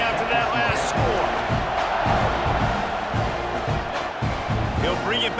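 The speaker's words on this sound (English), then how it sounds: "this crowd is buzzing after that last score" Stadium crowd buzzing in College Football 26 during a simulated Florida Gators at Texas A&M Aggies game: a dense, continuous roar with a commentator talking over it.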